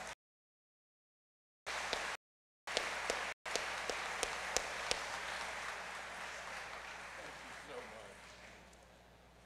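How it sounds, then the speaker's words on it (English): An audience applauds storyteller Tim Tingle at the Choctaw Nation State of the Nation, a faint, steady patter of clapping from a large crowd with a few sharper claps, broken by brief dropouts. "Let's give him a round of applause."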